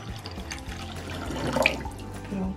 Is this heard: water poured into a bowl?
yes